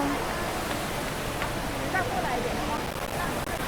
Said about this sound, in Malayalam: ഇതിനെ വേണമെങ്കിൽ ഒരു മിനി വാട്ടർഫോൾ എന്നൊക്കെ പറയാം.